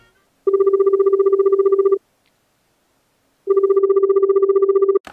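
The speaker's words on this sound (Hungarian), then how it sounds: "én már itt is tartom a kezembe a telefont, és nem is húzom a szót, tárcsázom" A telephone ringback tone sounds after a call is dialed, loud and close, with two long pulsed rings separated by about a second and a half of silence.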